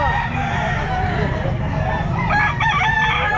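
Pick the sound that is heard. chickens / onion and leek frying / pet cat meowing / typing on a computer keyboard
chickens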